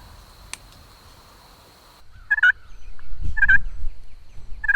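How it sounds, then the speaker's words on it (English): A wild turkey tom gobbles three times in quick succession, loud and fairly close in open country during a hunt. A faint bird call sounds briefly before the gobbling begins. "Guys, I just heard a gobble"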